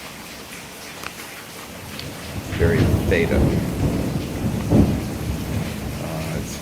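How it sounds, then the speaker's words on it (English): A 2 a.m. thunderstorm in Louisiana: steady rain hiss, then a loud rolling thunder rumble swells midway and lingers, with a brief murmured voice early on. "It's 2 a.m. Thunderstorms, Louisiana."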